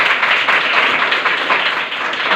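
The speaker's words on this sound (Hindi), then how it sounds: "बजाओ ताली" A classroom of students claps together in a dense, steady round of applause, loud and close throughout.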